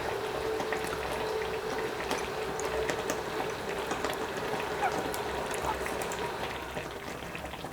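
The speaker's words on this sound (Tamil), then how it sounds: "அதை வந்து கொஞ்சம் பால் ஊற்றி அதை கரைச்சி இதில் ஊற்றிடுவோங்க." Milk with dissolved edible camphor poured into almond halwa in a pan. A continuous bubbling, liquid sizzle holds at a steady level throughout, up close with no talking.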